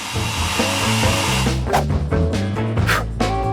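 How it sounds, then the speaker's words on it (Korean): Hair dryer used to finish a dessert burger stacked with strawberry sauce, cream, cookies and chocolate: a loud, steady whirring blow for the whole stretch, with a few sharp clatters toward the end. "드라이기를 이용해서 음식을 마무리하는 거예요"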